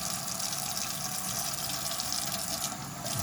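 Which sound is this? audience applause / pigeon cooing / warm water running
warm water running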